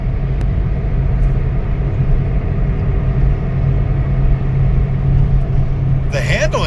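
A 2004 Toyota Matrix XRS with a 2ZZ engine hums low and steady while coasting in fifth gear off the throttle on a mountain road near a tunnel, a constant close rumble from inside the car.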